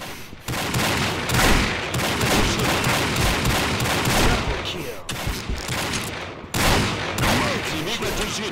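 Rapid gunfire from a Desert Eagle pistol and other guns in the shooter game Combat Arms, dense and loud, with bursts running almost continuously and two brief breaks.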